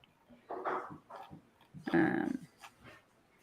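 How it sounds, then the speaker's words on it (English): Dogs shuffle and move about indoors during a live writing session, giving a few soft, close bursts of scuffling and rustling with low dog vocal noise, mostly alone with no clear talk. "Sorry about the dogs moving around."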